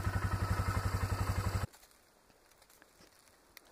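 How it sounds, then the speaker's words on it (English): A four-wheeler ATV idles with a fast, even pulsing throb, then cuts off abruptly and leaves quiet outdoor ambience with a few small clicks and rustles as the rider parks in the woods. "So I just pulled over here and parked, got off my four-wheeler"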